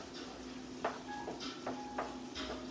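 Sweet potato and lentil curry simmering in a pot and being stirred, with a faint low bubbling and a few soft clinks and scrapes of a spoon against the pot, quiet and close.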